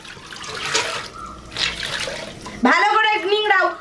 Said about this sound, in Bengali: ভালো করে নিংড়াও যাতে ওতে একটু জল না থাকে